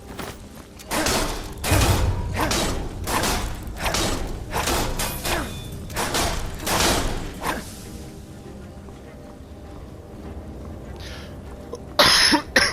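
A long run of harsh, repeated coughs, close and loud, roughly a dozen in a row, then quiet before a couple of brief knocks.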